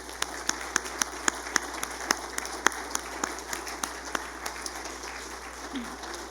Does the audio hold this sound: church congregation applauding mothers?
yes